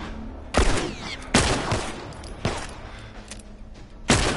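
Four sharp, loud gunshots from The Last of Us Part II video game, spaced about a second apart, each a hard crack with a short decaying tail over a low background.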